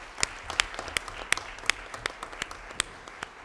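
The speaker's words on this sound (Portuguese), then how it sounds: "Uma salva de palmas." A small crowd at a parliamentary youth forum claps: scattered, irregular hand claps at moderate distance, fairly quiet and thin rather than a roaring ovation.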